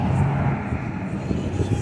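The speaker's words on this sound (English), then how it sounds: "That car passed." A car passes by on a street, heard as a continuous broadband road rumble with low engine noise, fairly close and steady throughout the short stretch.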